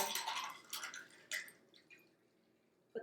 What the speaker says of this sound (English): Give that a beautiful pour.